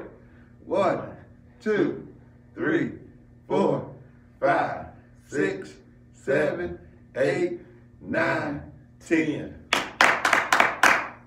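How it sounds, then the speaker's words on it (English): Hand clapping during a kids' movement and exercise routine: a steady series of separate sharp claps, then a faster burst of quick claps at the end, close and clear over faint background hum. "Remember, 5 claps."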